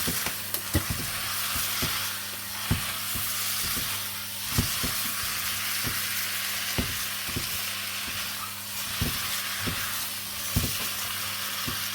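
Deer curry ingredients sizzle and fry steadily in a pan, with a spoon clacking and scraping against the metal in an irregular rhythm throughout; no one speaks.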